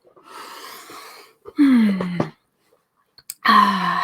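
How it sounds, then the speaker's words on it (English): A person breathes deeply and audibly, with soft airy inhales followed by two long, voiced, moaning sighs on the exhale, separated by short silences, close and fairly loud in a quiet room. "So let's take a deep breath."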